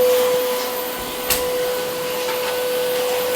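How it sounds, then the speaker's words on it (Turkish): A vacuum cleaner runs continuously nearby, a steady loud whine with a constant pitched drone and airy roar, holding level throughout with one faint click partway. "Elektrik süpürgesini çalıştırdı da annem"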